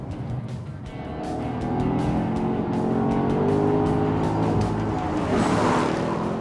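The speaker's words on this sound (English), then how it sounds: "that bimodal exhaust, the acoustics is just absolutely superb" An HSV car engine with a deep, throaty bimodal exhaust note revs and builds, rumbling loudly and close with harmonic growl as it accelerates.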